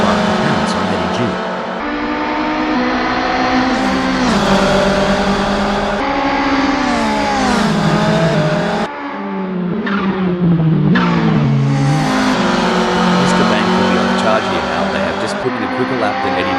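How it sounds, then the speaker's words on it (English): Volkswagen Golf Mk1 Littlebird lapping in Assetto Corsa club racing at Barcelona, its engine droning and rising and falling through gear changes with a brief lift near nine seconds, continuous and loud under commentary. "Mr. Bangs pushing the Volkswagen Golf Mk1 Littlebird to its limits"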